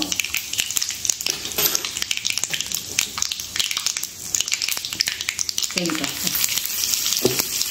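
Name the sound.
cumin and asafoetida sizzling in hot oil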